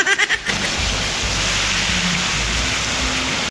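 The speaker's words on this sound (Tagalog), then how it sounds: "nagbabaka sakali akong wala ng ulan pero grabe talaga" Heavy rain pouring down outside a farmhouse during flooding, a dense, steady roar of water close by, continuous and loud after a brief rustle at the start.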